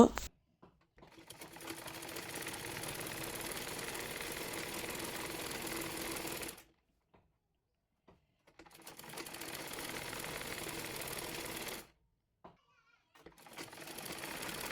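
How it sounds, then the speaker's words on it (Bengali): A sewing machine stitches a salwar in two long continuous runs with a brief pause between them, then starts again near the end, a close steady mechanical whir. "এরপর চাপ সেলাই দিয়ে নেব"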